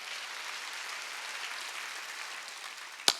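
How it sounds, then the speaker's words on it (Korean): Congregation applauding during a Sunday worship service, a steady, moderately quiet sustained clapping wash ending with one louder sharp clap. "박수로 하나님께 영광을"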